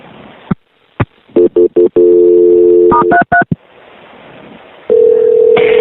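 Telephone line sounds during the transfer of an emergency call: a burst of clicks, a run of loud touch-tone dialing beeps, then a steady tone, all close and clear with no talk.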